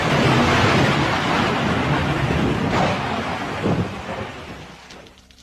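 Heavy rain pours in a dense, steady wash while a deep rumble of thunder rolls beneath it, then the downpour gradually thins and fades toward the end.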